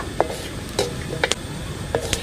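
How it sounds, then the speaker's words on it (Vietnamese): Greens being lightly stir-fried in a pan until just wilted: a few separate scraping and clattering strokes at uneven intervals over a faint, steady sizzle. "Mình sao sơ thôi, cho nó héo thôi."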